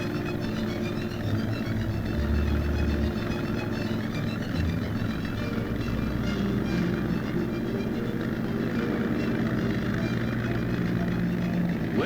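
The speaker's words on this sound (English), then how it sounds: "the first helicopter designed to use a gas turbine engine" A US Army Iroquois helicopter powered by a gas turbine engine gives off a loud, steady, dense turbine and rotor drone with sustained tonal whine, continuous for the whole stretch.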